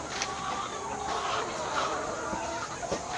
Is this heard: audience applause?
no